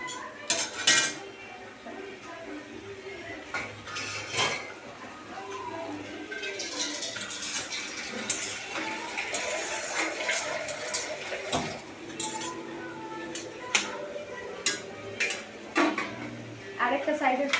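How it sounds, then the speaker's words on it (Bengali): Shahi paneer masala is stirred in a pan after salt goes in, making repeated metallic clinks and scrapes of a utensil against the cookware, steady and close, with some voice in the background. "তারপর একটু নাড়বো ভালো করে।"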